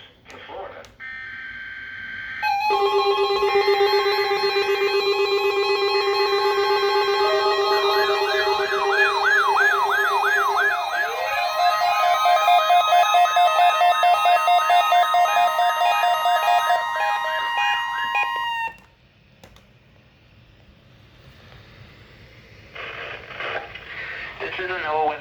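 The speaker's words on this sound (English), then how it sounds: "The preceding signal was a test of the public warning and alarm for transmitters in the Florida listening area" A NOAA Weather Radio required weekly test of the Emergency Alert System for a Florida listening area: loud burst tones, a long steady two-tone alert, then warbling chirps and tones before cutting to quiet broadcast hiss.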